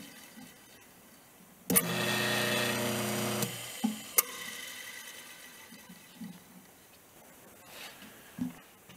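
A Harbor Freight 4x6 vertical bandsaw motor starts up and runs steadily for nearly two seconds with a loud, even hum and whine, then winds down, followed by a sharp clunk and a few faint workshop knocks.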